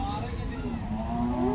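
A dairy cow at a weekly cattle market in Loni lets out a drawn-out, rising moo lasting the full moment, close and clear over a busy background murmur.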